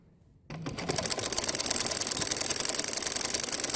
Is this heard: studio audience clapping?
no